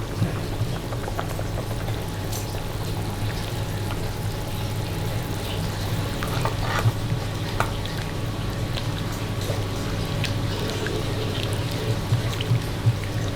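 Coconut milk is stirred into chicken tongseng in a pan and left to simmer, giving a steady low bubbling sizzle with light scrapes and occasional clinks throughout, without speech.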